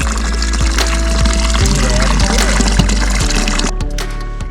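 Spring water pouring and splashing steadily at Haritha Kanda in the mountains, a loud close continuous gush that runs unbroken across the whole moment.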